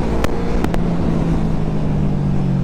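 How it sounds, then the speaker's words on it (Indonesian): A QJ Motor SRV 600 V motorcycle with its V-twin engine and stock exhaust, on a test ride in Indonesia, holding a steady, loud, close engine drone with a few brief sharp pops early on. "Ini mesin V4-nya ini suaranya merdu banget loh."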